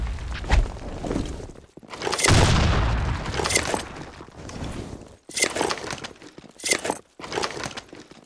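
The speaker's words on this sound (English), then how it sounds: "Grenade! Fire in the hole!" Grenade blast in the online shooter BlackShot, a loud booming burst with crackling debris around two seconds in, set among other sharp gunfire-like bangs and thuds throughout the match.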